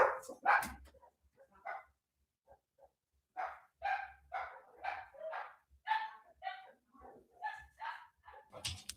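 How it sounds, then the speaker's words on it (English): Indoor dogs bark in a series of sharp, moderately close woofs, scattered at first and then in a quicker run, with a few softer yips between them. "And because Molly and Oliver heard them barking, here Oliver is starting to get riled up again"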